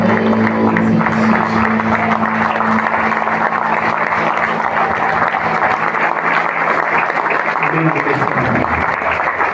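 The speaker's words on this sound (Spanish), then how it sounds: "Un aplauso al Señor." A church congregation claps in praise to the Lord, dense continuous applause over held musical tones and voices throughout, easing slightly near the end.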